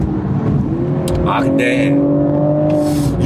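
A sports car engine, a BMW Z4 or Porsche Boxster, holds a steady revving drone around 4000 RPM, loud and close beneath someone talking.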